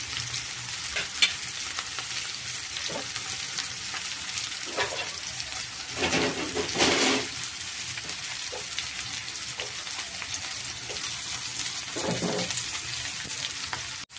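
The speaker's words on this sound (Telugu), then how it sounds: "ఇట్లా ఎండు రొయ్యలతో కూడా చేసి చూడండి, చాలా బాగుంటుంది. వేగాలి." Dried prawns fry in a pan with a steady, moderately quiet sizzle, crackling bursts and occasional stirring scrapes throughout.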